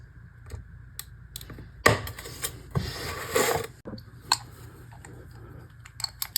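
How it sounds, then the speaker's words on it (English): Model railroad track being cut into three tie lengths, giving sharp clicks and snips with brief scraping bursts, close and fairly quiet, with pauses between cuts. "Then I cut off 3 tie lengths"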